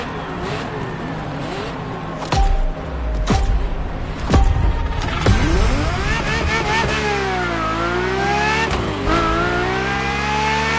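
Ferrari F50 V12 engine in Motorfest, loud revving with rising and falling pitch sweeps through gear changes, sharp shift blips and a strong high-rev wail, close and continuous for about ten seconds.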